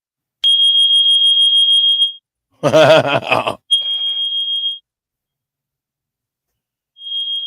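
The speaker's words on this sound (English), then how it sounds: "the people stop reacting to alarms here" A loud, steady electronic alarm tone sounds in long beeps, played during a live broadcast, broken once by a brief burst of speech, then returning twice more.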